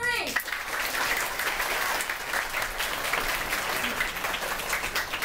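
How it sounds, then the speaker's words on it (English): Theater audience bursts into a loud, continuous round of applause on cue, dense and sustained throughout with a brief voice at the very start. "we're going to put our hands together in a big round of applause"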